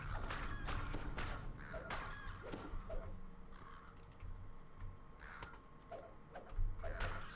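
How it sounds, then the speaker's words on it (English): A crow-like bird in a video game caws several times in short, harsh bursts over a faint, steady background, with clicky keyboard-like taps in between. "Stupid bird."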